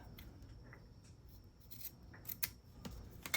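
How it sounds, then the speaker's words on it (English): Scissors trimming washi tape and cardstock, a series of faint crisp snips and small paper rustles close by, growing a little louder toward the end with no talking. "let's trim that off"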